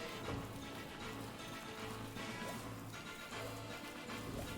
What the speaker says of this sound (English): Oh, and back to rain.